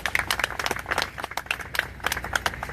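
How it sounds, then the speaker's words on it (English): A modest audience at a political talk claps, with sharp, distinct individual hand claps standing out rather than a full roar, uneven and close by. "Let's give him a big round of applause."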